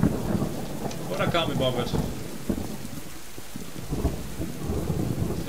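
Rain and rolling thunder in the survival video game Subsistence, a steady wash of rainfall with low thunder rumbles as someone talks briefly over it.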